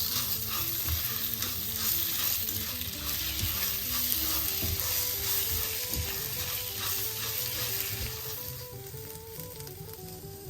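Coquillette pasta and cherry tomatoes sizzle steadily in a hot pan, a loud, continuous frying hiss with scraping from constant stirring and no voices.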